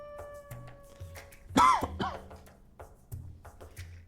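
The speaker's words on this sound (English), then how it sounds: "Sorry for the coughing." A single sharp cough close to the mic, quick and forceful, set among quieter game sounds and soft background noise.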